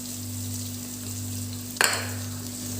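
Chicken biryani masala fries in a pan with a constant close sizzle, and a single utensil clank sounds partway through as it is stirred.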